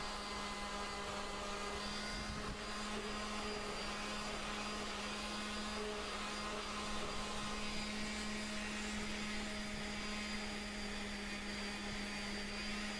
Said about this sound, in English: with the sander, you really want to smooth over, any of the rough grooves created with that angle grinder